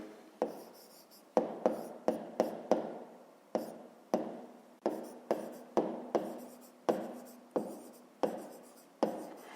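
A math answer is written out by hand as a close series of sharp tapping strokes, about eighteen of them in irregular bursts with short gaps, each fading quickly in a quiet room.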